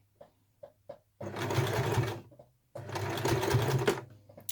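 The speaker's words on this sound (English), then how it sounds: "I'm going to sew it as close as I can to the edge, but I'm going to start off here and then reverse back" Sewing machine stitching a fabric snap-shut glasses case, a few single needle clicks and then two sustained bursts of loud, close whirring stitching separated by a short pause.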